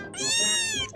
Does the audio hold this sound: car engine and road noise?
no